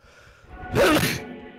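One loud, close human sneeze bursts out with a brief indrawn build-up and a sharp explosive release, then fades, with no other sound around it.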